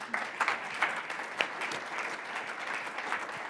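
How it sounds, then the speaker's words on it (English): An audience claps in a steady round of applause lasting a few seconds, with no one speaking over it. "Surprised that got a round of applause."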